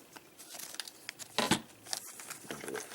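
Plastic toy packaging for a Transformers collector figure being cut open up close: scattered crinkling and tearing rustles with one louder rip midway, otherwise soft and intermittent.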